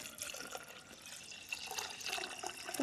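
Water poured into a cooking pot of wheat for alsa, a steady soft splashing and trickling that is fairly quiet and close, with no talking.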